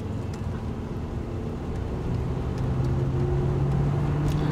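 A 1981 Cadillac Fleetwood Brougham d'Elegance accelerates at full throttle from a standstill, a low engine rumble rising steadily in pitch under road and wind noise inside the cabin.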